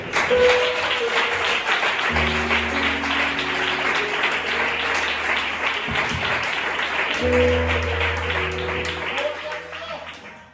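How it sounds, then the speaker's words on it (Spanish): Church congregation applauding, a dense sustained wash of clapping that fills about ten seconds, with sustained musical tones underneath and a brief dip midway before the clapping swells again. "Un aplauso para la palabra de Dios."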